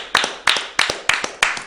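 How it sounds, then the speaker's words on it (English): Five quick double claps in steady rhythm, loud and close, with no voices over them, a short round of applause from one person. "gotta give you a round of applause"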